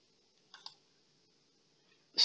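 A computer mouse gives two quick faint clicks in a quiet room, followed by a sharper, louder click right at the end.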